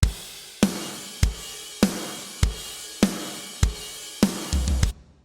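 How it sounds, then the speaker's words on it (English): A simple programmed drum pattern plays as a scratch track, with steady evenly spaced kick and snare-like hits in a regular rhythm, clear and alone, ending with a short fill. "I went ahead and tossed in a really simple drum pattern that will change eventually"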